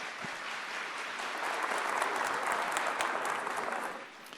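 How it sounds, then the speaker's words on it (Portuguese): Worshippers at a Catholic Mass applaud the word of God after a reading, a full round of clapping that swells in the middle and tapers off at the end. "vamos aplaudir a palavra de Deus."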